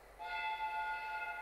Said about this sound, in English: The train is arriving at the station.